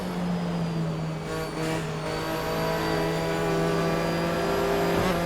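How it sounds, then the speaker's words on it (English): Race car engine held against the rev limiter on track, a loud, steady high-revving drone with constant harmonic tones throughout, slight wavering but no gear changes. "I'm still going to be pinging it off the rev limiter for the whole thing."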